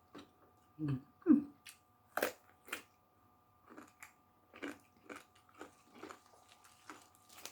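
Someone eats thin rice noodles topped with catfish, biting and chewing in a string of close, crisp crunches and wet smacks, spaced irregularly with quiet gaps between them.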